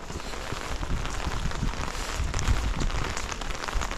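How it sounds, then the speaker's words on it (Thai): Steady, heavy rain pours down, a dense continuous patter on surfaces with no voices, with wind shaking bamboo. "ฝนยังไม่หยุดเลยพ่อแม่พี่น้อง ทั้งวันครับผมวันนี้"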